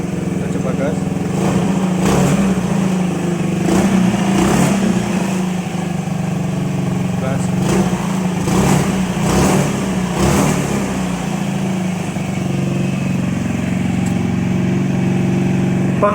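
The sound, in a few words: motorcycle engine revving on LPG, throttle opened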